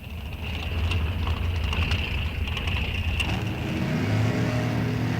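Chevrolet S10 pickup trucks launch and roar down a drag strip at a bracket race, a loud sustained engine drone with a steady whine heard from a distance.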